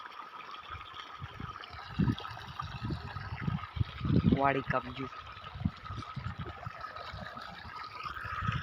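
Water gushing under pressure from a broken pipe outdoors, a steady splashing stream running beneath excited talking and shouting from several people close by.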